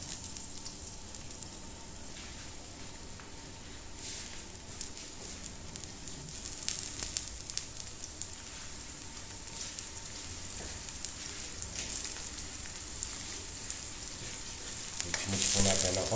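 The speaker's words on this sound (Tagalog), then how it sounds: "Okay po, siyempre ang ating olive oil. Sabay, hulog na po natin ang ating panggisa." Aromatics sautéing in hot olive oil in a pan, a steady close sizzling and crackling that runs throughout, with some stirring noise and a brief louder flare near the end.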